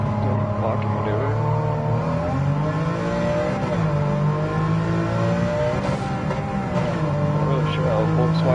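Race car engines in Gran Turismo 7, with a Volkswagen Scirocco and Lamborghini Countach among the pack, droning and shifting pitch steadily under continuous revving as cars accelerate through the race.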